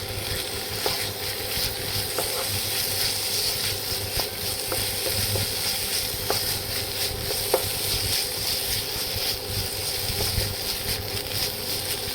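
A steady, moderate sizzle runs throughout as soaked urad dal is stirred in a pan, with occasional light clicks and scrapes and no voices.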